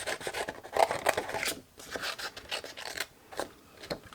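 Scissors snip through cardstock while fussy cutting around a stamped design for a bag project, giving a run of close, quiet rasping cuts with short pauses between strokes.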